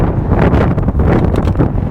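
Gusty wind on a windy day buffets the microphone outdoors beside a big Bentley, producing a loud, low, continuous rumble with short dips and no speech.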